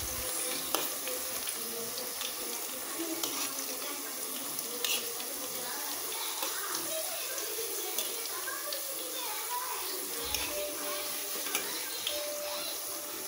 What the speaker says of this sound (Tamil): மீடியமாக வச்சா தான் நல்லா பாவக்காயெல்லாம் நல்லா வேகும்